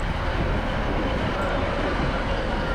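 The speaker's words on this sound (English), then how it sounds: "it was time for Stu and I to catch our last train and leave Fort William" A train pulls out of Fort William in the Scottish West Highlands: a loud, steady broadband rumble and rush of rolling stock, close by and alone.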